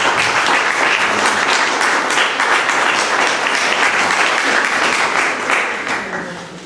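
Loud, dense applause from an audience at a heritage building during an open submission art event, sustained steadily before tapering slightly at the end.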